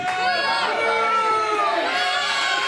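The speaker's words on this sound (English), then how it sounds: "Why are you booing me?" A large wrestling crowd at a title match loudly booing and jeering the winner, a dense wall of shouts, whoops and overlapping voices rising and falling.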